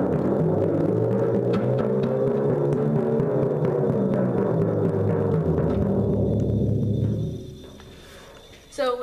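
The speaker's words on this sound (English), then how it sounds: "When you tune the timpani, you move a pedal on the ground near your foot." A low, sustained timpani tone rumbles and slides in pitch as the tuning pedal is moved, then fades away, followed by a brief sound near the end.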